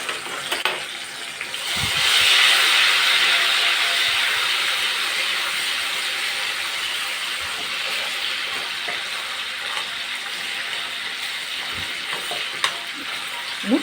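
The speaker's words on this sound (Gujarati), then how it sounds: "એ એક ટમેટું નાખી દેશું." Tomato dropped into hot oil with crackled cumin seeds in a pan, giving a sudden burst of loud sizzling and frying that settles into a steady hiss, with a few clinks of a utensil, and no talk.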